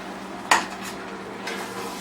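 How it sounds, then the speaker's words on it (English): Spinach puree goes into a pan of mushroom gravy with a single sharp clank of a utensil against the pan, followed by a continuous low sizzle and soft stirring. "Go ahead and add the spinach puree."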